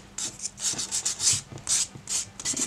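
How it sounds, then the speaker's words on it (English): A fine nail buffer rubs back and forth over a fingernail coated with dip powder, producing quick, rhythmic scratchy strokes, close and clear with no talking. "I'm just going to give it a little buffing over."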